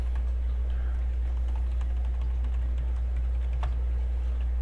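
Keys on a computer keyboard tap out a command in quick irregular clicks over a steady low electrical hum, with no talk.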